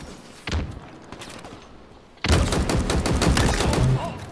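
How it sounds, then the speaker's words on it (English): Rapid automatic gunfire in the video game Halo Infinite, a short burst followed by a longer sustained volley of loud, close shots in quick rhythm. "In a hail of gunfire!"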